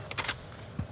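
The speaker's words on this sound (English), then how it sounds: "Changing mags." A weapon magazine is swapped in Call of Duty: Modern Warfare II: a quick pair of crisp metallic clicks, then a soft low thunk as the mag seats, quiet and close.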